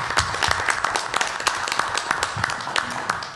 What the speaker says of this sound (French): je me joins à vous pour vraiment les féliciter et leur faire une bonne main d'applaudissement